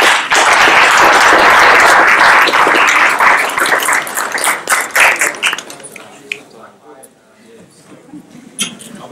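Loud applause from an audience at an IEEE Wi-Fi standards session, strong for several seconds, then thinning into scattered, fading claps that trail off near the end.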